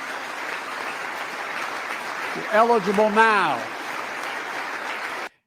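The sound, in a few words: audience clapping during Biden address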